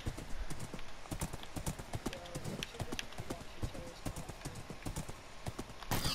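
Horse hooves clip-clop in Minecraft in a steady, fairly quick trotting rhythm throughout, moderately close, with faint background game ambience and light talk.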